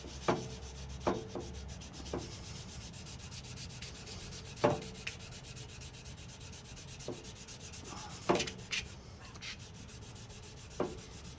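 A steel chisel's back is rubbed flat on a 400 grit sharpening stone: quiet, close scraping strokes with scattered small clicks and taps, no voice.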